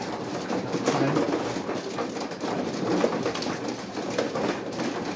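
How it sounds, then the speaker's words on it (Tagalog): A pigeon or dove coos softly and repeatedly over a steady wash of broadband background noise, heard at a mahjong game gathering in South Africa with no clear talk. "may ibon yan"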